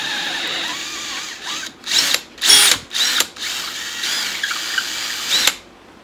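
A drill works through a hole in a sofa leg, its whine sounding in a series of loud on-off bursts with brief gaps, then a longer steady run before it cuts out, close and free of speech.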